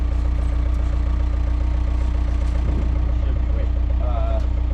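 An old Takeuchi TL26 tracked skid steer idles with a steady, loud low-pitched diesel throb close by, while people talk briefly over the engine.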